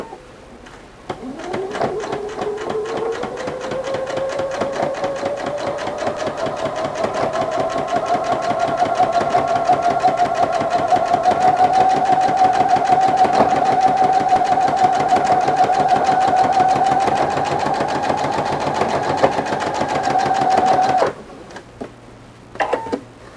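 A Husqvarna Viking sewing machine fitted with a ruffler attachment stitches continuously for about twenty seconds, a rapid mechanical clatter with a rising motor whine that holds steady, stops abruptly, then gives a couple of faint clicks.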